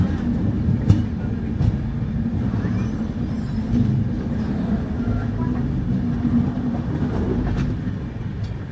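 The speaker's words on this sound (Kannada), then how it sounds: "ಟ್ರೈನ್ ಹೋಗ್ತಿರೋದು ಗೊತ್ತಾಗುತ್ತೆ" A train rolls steadily along the rails, a deep continuous rumble with occasional faint clacks, heard from inside or close by.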